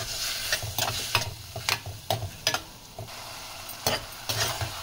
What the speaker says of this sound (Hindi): उसके बाद हम इसको चिबड़ को और इसको हम मिक्स करेंगे